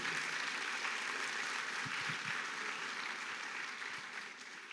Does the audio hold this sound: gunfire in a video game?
no